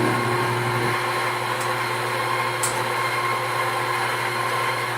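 A cafe coffee machine extracting with its lever set back, giving a loud, continuous mechanical rumble and hum, steady and close with no talking.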